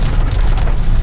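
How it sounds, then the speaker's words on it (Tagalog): Heavy rain: a loud, close, continuous roar with a dense wash of drops and no talking over it. "ang lakas ng ulan"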